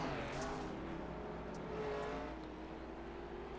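Dirt-track race cars roaring past at Eldora Speedway during a national series event, a steady loud engine drone that swells slightly and then fades, with crowd and track noise underneath.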